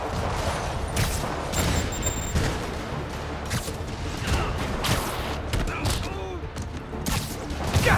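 Rockets fire in rapid succession in Marvel's Spider-Man Remastered, a dense barrage of loud blasts and booms rolling over one another for the whole stretch, with voices talking over the explosions.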